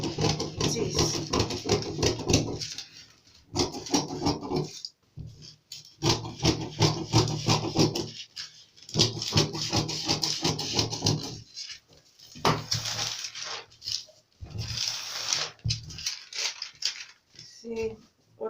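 Scissors cutting a round neckline out of fabric, with bursts of crisp snipping and rustling cloth coming in uneven stretches and short pauses, close and moderately quiet, with no talking.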